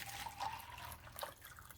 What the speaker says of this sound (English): pour some water into it.